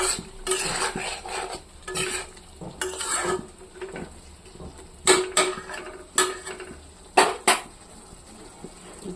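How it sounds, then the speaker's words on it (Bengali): Metal spoon scrapes and clanks against a pot as chicken pieces are stirred into fried spices for a local chicken curry, in uneven bursts with a faint sizzle between strokes. "ওখানে আমি এই মাংসটা দিয়ে দেবো।"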